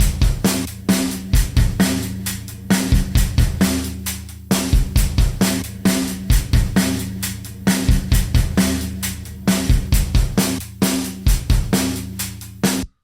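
A drum kit playing a steady, repeating groove through reverb made from a recorded clap in a church, loud and even, with each phrase of hits ringing briefly before the next, and no talking.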